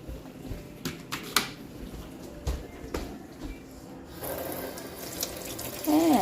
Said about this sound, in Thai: เดี๋ยวจะล้างผักก่อนสิเพราะว่าจะทำส้มตำ